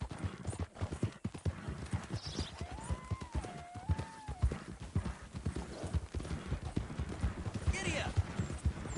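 Hooves of a horse in Red Dead Redemption 2 clip-clop in a quick, steady rhythm throughout, loud and close, with a brief whinny partway through and a voice speaking over the riding.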